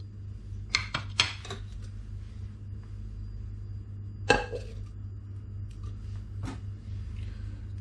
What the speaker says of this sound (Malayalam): ഇനി നമുക്കൊരു കുക്കർ എടുത്ത് അതിനകത്തോട്ട് ഇതെല്ലാം കൂടെ ആഡ് ചെയ്യാം.